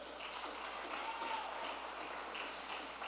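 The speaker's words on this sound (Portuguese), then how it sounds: "Dê as palmas para ele" A church congregation claps together in a brief, moderate burst of applause, steady and dense throughout, with a faint voice underneath.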